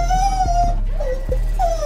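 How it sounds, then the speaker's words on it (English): A pet dog whines in the background, with rising and falling whimpering tones that swell and fade several times over a couple of seconds, fairly steady and moderately loud beneath a low background hum. "My dog is having issues in the background."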